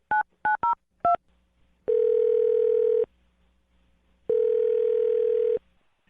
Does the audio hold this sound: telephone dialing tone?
yes